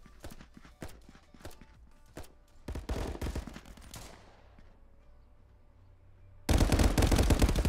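Gunfire in the Contractors VR shooter during a competitive match: bursts of sharp shots and rapid automatic fire, some distant and some close, ending in a loud sustained volley, with no talking.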